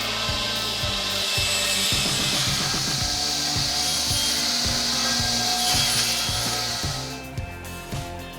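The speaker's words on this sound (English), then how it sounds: "The efficiency and precision of that sawing system are just incredible." A Nussreiner automatic firewood processor saws through logs, giving a loud, continuous mechanical roar with a steady, fast rhythmic pulsing that fades slightly near the end, with no talking.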